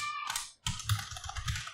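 Quick, soft clicking of keys on a computer keyboard, a close and quiet run of typing with a brief gap partway through.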